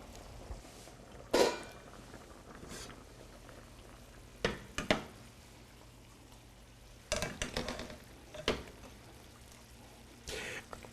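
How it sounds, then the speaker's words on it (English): Cooked pasta is lifted with a strainer scoop out of a pot of boiling pasta water, giving a low steady bubble broken by several short splashes and drips as the scoop dips in and out. "when you drain your pasta, I rather use a strainer scoop like this because you save the pasta water"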